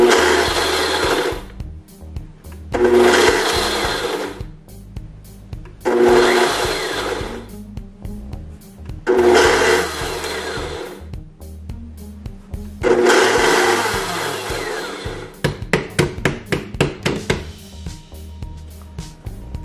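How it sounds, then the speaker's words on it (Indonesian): A kitchen blender grinds dried ghost peppers into flakes in five loud bursts of a few seconds each, separated by short pauses, then ends with a quick series of sharp pulses. "Kita tutup dan kita blender sesuai dengan keinginan kita."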